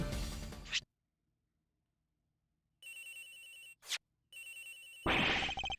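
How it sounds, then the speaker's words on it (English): Electronic phone ringtone from the Ace Attorney Investigations game, sounding in repeated bright chirping bursts separated by stretches of silence, clear and fairly loud with no voices. "Agent Hicks's phone. It's ringing from somewhere, sir."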